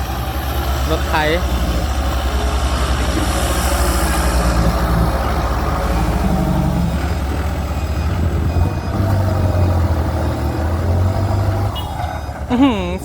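A Kubota M6240SUH tractor fitted with a modified exhaust idles and rumbles steadily nearby, a deep, continuous engine drone with voices talking over it.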